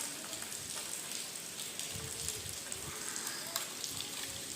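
Heavy rain falls steadily on an all-day rainy day, a dense, even hiss of drops pattering on surfaces close by, with a faint voice underneath.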